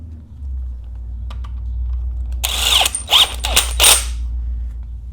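A 32mm socket turns a greased nut along a bolt bottomed out in the crankshaft of an SRT4 engine during a Crower cam install, giving a few short bursts of ratcheting clicks over a steady low hum.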